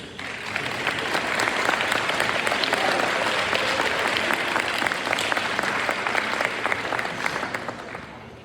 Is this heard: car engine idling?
no